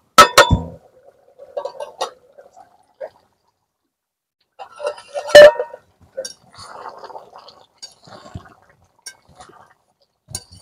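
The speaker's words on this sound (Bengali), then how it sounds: "এখন আমি চাপা দিয়ে রেখে দেবো।" A lid clinks onto a cooking pot of chicken and jackfruit curry: a sharp metallic clatter at the start, then another bright clank midway, amid quieter kitchen knocks and rustles.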